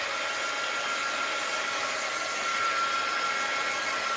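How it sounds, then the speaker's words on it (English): A heat gun blows hot air to dry an art journal page, a steady, close, continuous fan-and-air hiss with no breaks for the full few seconds. "Get my heat gun out."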